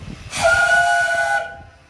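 A steam engine whistle sounds a single sustained, clear blast lasting about a second, with an airy hiss around it, then cuts off and fades, heard alone against faint background rumble.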